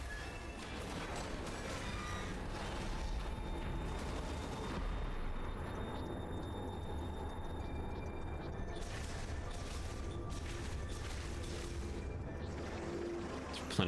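Missile fire in the video game Metroid Prime 4: Beyond sounds as a dense, unbroken barrage of blasts and rumbling impacts that stays loud and steady from start to finish.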